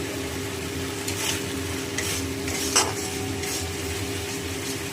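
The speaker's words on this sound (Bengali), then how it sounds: "মশলাটা কিন্তু পুরো কিন্তু ভাজা ভাজা হয়ে গেছে" Spice paste for a katla fish curry fries in oil until the oil separates, giving a steady soft sizzle with occasional stirring scrapes and no talking.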